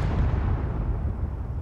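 A Bofors gun firing in the video game Space Engineers, a heavy rumbling burst of booms that stays dense and low throughout, loud and close.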